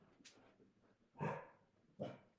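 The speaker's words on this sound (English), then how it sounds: "Sorry, my dog's barking." A couple of faint barks from a dog in the distance, spaced about a second apart, with a quieter yelp just before.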